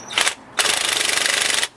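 Small cordless impact wrench on the A/C clutch of a Nissan Rogue: a brief burst, a short pause, then a longer rapid hammering rattle of about a second, close and loud.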